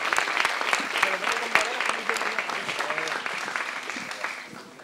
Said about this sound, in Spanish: Un aplauso de nuevo.